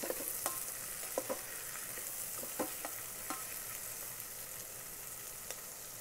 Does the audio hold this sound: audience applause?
no